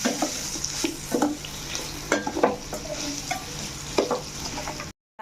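Fried raw banana pieces are stirred with chili powder, salt and turmeric in a pan, with close scraping strokes and a steady sizzle heard alone, ending abruptly.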